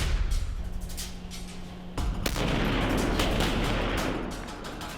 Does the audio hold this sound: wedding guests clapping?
no